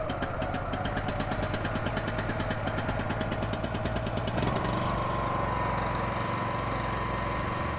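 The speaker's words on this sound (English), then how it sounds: "The motor will start." The MegaMax pony motor, a small engine, runs with a steady loud close-up chug, and partway through its pitch and load shift and it settles into a smoother, steady running drone.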